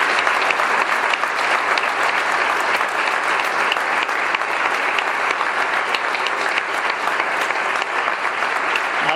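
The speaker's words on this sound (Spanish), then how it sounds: "Le damos un aplauso al Señor." A church congregation claps together in a loud, steady round of applause that fills the space, continuous and dense from start to finish with no pause.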